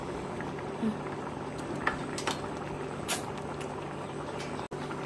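Rajma simmering in a pot on a home stove gives a steady, soft broadband bubbling hiss that runs continuously at a moderate level, with a few brief clinks and faint sharper pops scattered through it.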